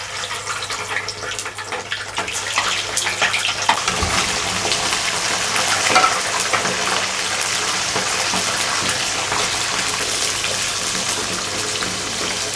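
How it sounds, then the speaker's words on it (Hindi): Frozen chicken pakoras, still icy, all dropped at once into hot oil, give a loud, vigorous, unbroken hiss and roar of frying that stays close and constant throughout. "इसको हम पकोड़े की तरह तलेंगे। मैंने तमाम डाल दिए एक साथ ही"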